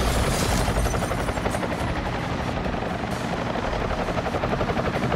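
Helicopter in the video game Deus Ex Human Revolution, a loud, close, continuous rotor thump with dense engine roar holding steady throughout.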